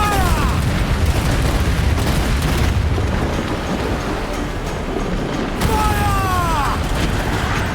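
Ship cannons in Assassin's Creed Black Flag boom repeatedly across a sustained naval battle, heavy low blasts layered over constant roaring wind and sea, with whistling projectiles streaking past twice.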